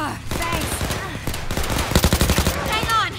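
Rapid bursts of gunfire from the zombie shooter Overkill's The Walking Dead, a dense crackle of shots peaking in a fast, loud volley near the middle, mixed with game effects and a voice.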